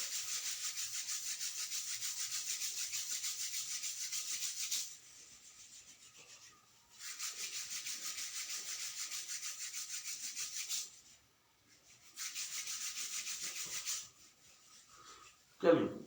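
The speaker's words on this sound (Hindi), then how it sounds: "हाथों को रब करेंगे।" Hands rub briskly together during a yoga session, three long bouts of rapid dry friction close to the listener, separated by short pauses, with a brief thump at the end.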